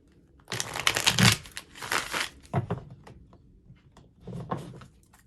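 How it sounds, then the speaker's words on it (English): Cards are riffled and shuffled in several brisk bursts with short pauses between, close by and fairly quiet. "Just gonna shuffle one more time."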